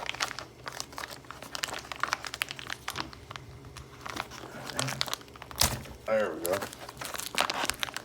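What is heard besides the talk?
thick plastic packaging from China being torn open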